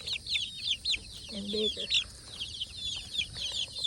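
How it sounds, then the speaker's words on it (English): Chickens cluck and chirp nearby in a farm yard, a busy run of short calls with a person speaking briefly over them. "Here are the chickens."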